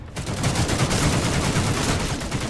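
Rapid gunfire in a video game, a dense continuous volley of loud shots that starts abruptly and keeps up for a couple of seconds.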